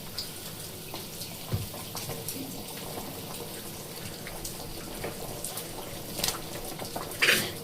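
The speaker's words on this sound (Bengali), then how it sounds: "ঝোল দেখুন ফুটে গেছে খুব সুন্দরভাবে" Gravy with carrots and potatoes bubbles at a boil in a pot, a continuous soft seething and gurgling with occasional louder pops and stirs, no talking heard.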